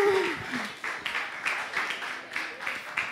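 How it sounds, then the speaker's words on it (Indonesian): Scattered clapping from a youth congregation at a church service, uneven bursts rather than a full ovation, with a voice speaking over the start and more talk in the background. "Boleh tepuk tangannya."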